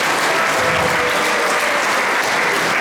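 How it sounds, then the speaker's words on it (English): A crowd at a Janmashtami celebration in Maple, Ontario gives a continuous, dense round of applause for Maharaj, loud and steady throughout with no breaks. "round of applause for Maharaj"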